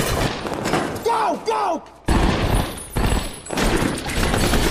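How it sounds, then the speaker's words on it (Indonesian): Gunfire from a police and counterterror squad shootout in a film, loud repeated bursts of shots in a heavy exchange, mixed with shouting voices and swelling music. "terjadilah aksi tembak-menembak antara petugas dengan mereka"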